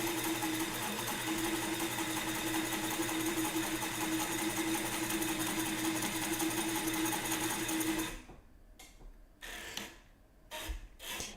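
A home sewing machine stitching fabric runs in a steady, loud mechanical whir for about eight seconds, then stops, followed by scattered handling clicks and short bursts of the needle.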